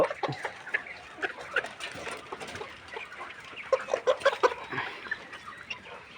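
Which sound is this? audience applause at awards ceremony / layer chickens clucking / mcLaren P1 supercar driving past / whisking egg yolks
layer chickens clucking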